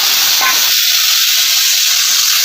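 Cumin seeds sizzle in hot oil in a pan, a loud, steady, close hiss that fills the short clip with no pauses.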